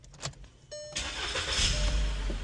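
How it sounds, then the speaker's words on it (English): A 2012 Volkswagen Jetta engine cranks briefly after a short electronic chime and catches, settling into a steady close idle, with no talk. "Engine start."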